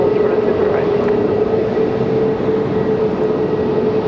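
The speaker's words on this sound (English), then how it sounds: "Beautiful look at the Aer Lingus XLR." An Aer Lingus Airbus A321XLR jet airliner bound for Dublin at Raleigh-Durham International Airport gives a loud, steady engine roar with a faint whine held throughout.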